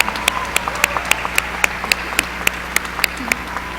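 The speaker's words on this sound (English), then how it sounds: "Let's give one more round of applause for our salutatorian and valedictorians." Graduation ceremony applause for the salutatorian and valedictorians, heard as steady, evenly spaced claps close by over a low background hum, with little crowd wash behind them.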